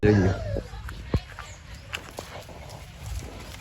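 Buffaloes walk on farm ground beside a maize field, giving a few scattered, soft hoof thuds and clops at close-to-middle distance, with a brief voice at the start.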